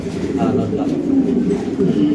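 A male fancy pigeon coos in low, throaty rolling notes close by, repeating steadily over a short stretch, with voices nearby.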